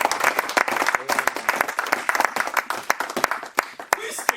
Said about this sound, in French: Applaudissez le Seigneur pour le prophète.